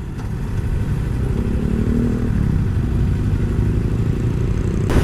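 Kawasaki Versys X-250 motorcycle heard while riding toward town, its engine a loud, steady droning rumble that holds even throughout with no speech.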